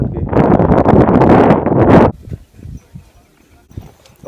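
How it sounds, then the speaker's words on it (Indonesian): Strong mountain wind buffets the microphone high on Gunung Gede Pangrango, a loud dense roar for about two seconds that then drops abruptly to faint gusts and rustling. "Suara anginnya juga kencang banget deh."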